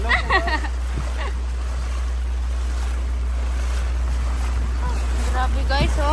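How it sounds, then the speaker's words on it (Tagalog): Floodwater rushes steadily during Typhoon Kristine, a broad continuous wash with wind buffeting the microphone, while people talk briefly at the start and end. "Umaagos pa yung tubig. Parang nasa ano na kami, nasa ilog."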